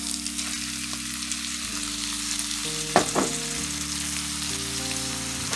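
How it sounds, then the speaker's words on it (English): Ground beef frying in a pan with sauteed onions, peppers and garlic; a close, steady sizzle carries on throughout with a short stirring scrape near the middle. "once we're done sauteing our onions, peppers, and garlic, we're just going to go ahead and add in our ground beef."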